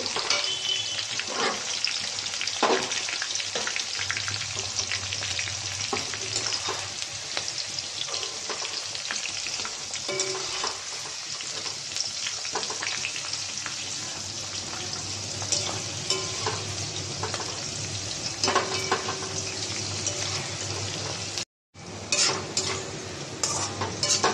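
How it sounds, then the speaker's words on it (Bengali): Food fries in a pan with a loud, continuous sizzle and crackle, broken by occasional utensil scrapes and stirring clinks, close up and steady until a sudden brief cut near the end. "এটা হালকা করে ভেজে নিচ্ছি, ভেজে তুলে নিই।"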